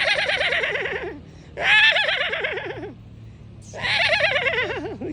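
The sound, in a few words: person imitating a horse's neigh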